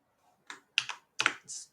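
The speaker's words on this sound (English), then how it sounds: "we're going to type in the current user's password" A computer keyboard is typed on to enter a password, giving four or five crisp, close keystrokes in a quick, uneven rhythm.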